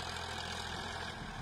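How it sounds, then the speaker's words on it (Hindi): A Farmtrac 45 tractor doing deep ploughing in a dry field, its diesel engine running as a steady, loud, continuous rumble close by, with no voices over it. "फार्म ट्रैक 45 है, उसी से जुताई हो रही है, गहरी जुताई कर रहे हैं"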